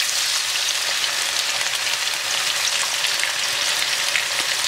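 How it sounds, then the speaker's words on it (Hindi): Onion with ginger-garlic paste frying over a high flame, giving a loud, steady hiss and sizzle that carries unbroken through the whole stretch with no voices. "तो अच्छी तरह फ्राई करेंगे हाई फ्लेम पर"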